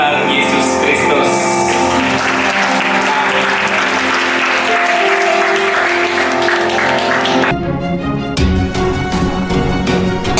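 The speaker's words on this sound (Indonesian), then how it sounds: "Berikan tepuk tangan sekali lagi, sorak-sorai bagi Tuhan." Loud congregational clapping and cheering fill a church worship service, with sustained applause layered over music, then a brief dip before the clapping and voices surge again.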